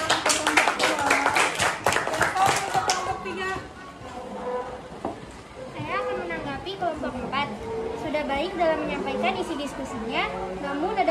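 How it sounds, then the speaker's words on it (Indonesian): Students in a junior high school classroom clap for a presenting group in a brief burst of applause at the start, fading as chatter and a speaking voice carry on through the room. "Beri tepuk tangan untuk kelompok 2"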